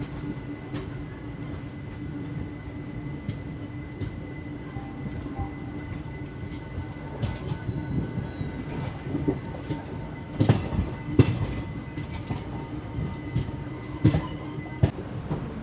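The Shirdi to Tirupati weekly express rolls through a curve near Guntakal Junction, with a steady rumble and rhythmic wheel clatter and a few sharp clanks and squeals from the rails, heard without talk.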